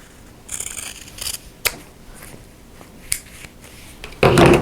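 Scissors trim the outer corner of quilt fabric in a few quick, close snips with soft rustling between them, ending in a louder burst of handling noise.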